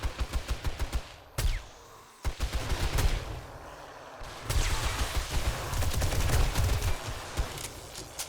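Rapid bursts of automatic gunfire in the survival video game 7 Days to Die, with the Rebirth mod, rattle loud and close in fast volleys, broken by short pauses and followed by a dense stretch of continuous shooting.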